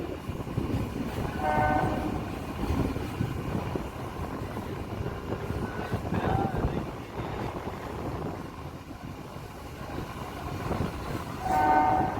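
A local train rolls into Digha station in West Bengal at the end of its run from Kolkata, steady loud rail rumble and clatter throughout, with horn blasts sounding near the start and again at the end.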